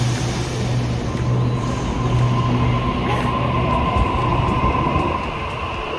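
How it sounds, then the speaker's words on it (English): Inside a moving train on the ride home from the beach: a steady rumbling hum of wheels and carriage with a low drone, occasional clicks and rattles, fairly loud and constant throughout with no talking. "We're on the train home."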